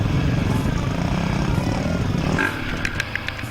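Motocross dirt bikes, including a Honda 250 and a Suzuki, race around a dirt track. Their engines roar loudly and continuously from close by, then ease slightly toward the end as the bikes pull away.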